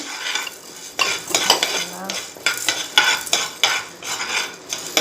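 Chana dal being stirred as it dry-roasts in a pan for sambar powder, with repeated scraping and rattling of spoon against metal and dry lentils shifting, close and steady with no voices.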